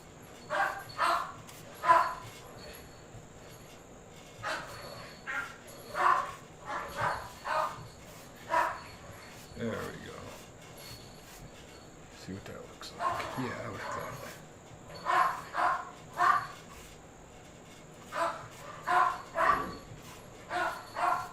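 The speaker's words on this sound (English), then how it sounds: "sorry, those are my dogs. They're not getting along with each other right now." Several dogs in a home bark, yip and whimper at one another in repeated bursts, loud and fairly close, with a person speaking in between and a little quiet rustling.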